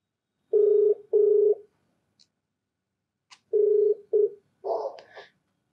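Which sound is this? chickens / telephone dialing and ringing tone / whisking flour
telephone dialing and ringing tone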